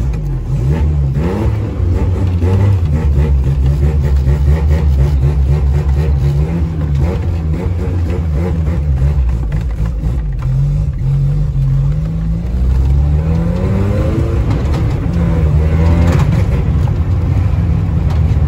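Volkswagen Gol car engine revving hard, a loud, continuous mid-pitched roar with rising and falling pitch sweeps, held close for the whole stretch with no speech.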